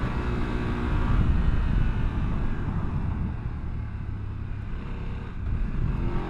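BMW F900GS Adventure middleweight adventure motorcycle being ridden, a loud, continuous engine drone under heavy wind rumble, its pitch shifting slightly through quick-shifter gear changes, with no speech.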